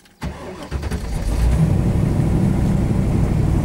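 A 1967 Ford Mustang GT500 fires up at a speedway: a quick starter crank catches into a loud, rumbling V8 that settles into a rough, lumpy idle with light revving, close to the microphone.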